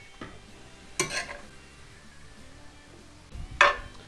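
Ground meat seasoned with chili powder fries quietly in a pan, with a soft steady sizzle and two or three brief scraping stirs.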